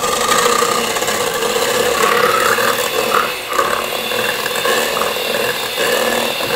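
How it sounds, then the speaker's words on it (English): Electric mixer whisking heavy whipping cream in a chilled bowl straight from the freezer, a steady, loud whirring rasp that runs throughout with a brief dip midway. "we're just going to go ahead and whisk this up with this mixer"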